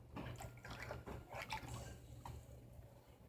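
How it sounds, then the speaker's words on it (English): Liquid is poured into a pan while making pepper steak, a soft, close splashing and trickling pour with a few drips over a low background hum. "And we're just going to pour it all in."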